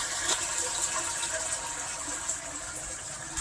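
Recycled bath water pouring into a storage tank in a home irrigation setup, a steady close gushing and splashing flow that continues throughout without talk.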